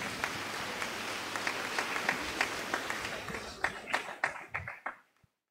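A church congregation at a Sunday Mass claps together in a steady wash of applause that thins into a few scattered, distinct claps and then stops.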